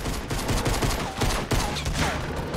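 Dense rapid gunfire in the video game Fortnite, a sustained loud fusillade of overlapping shots that crackles through the whole moment, with no talking.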